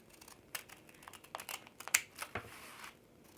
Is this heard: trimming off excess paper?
yes